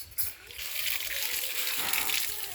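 Water splashes and sloshes steadily as feet are washed, a close, continuous splattering that runs almost the whole time after a brief quiet start.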